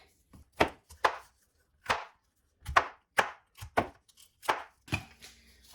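A knife chops food into big pieces on a board, about ten sharp, distinct thuds at an uneven pace, close and clear with no talk.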